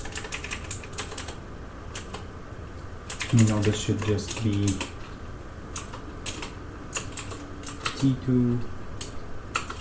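Rapid keystrokes on a computer keyboard, clustered in uneven bursts of sharp clicks spread throughout, with someone talking over parts of the typing.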